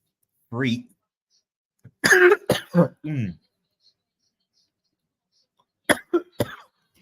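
Several harsh coughs and throat-clearing bursts come close to the microphone in short clusters, separated by silence.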